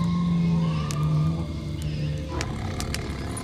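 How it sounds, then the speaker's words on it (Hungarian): A big cat, a tiger or leopard, roars in the VR game Bootstrap Island: a loud, sustained growling roar with a deep rumbling tone that fades, then a few sharper sounds follow. "Tigris is van itt, vagy leopárd"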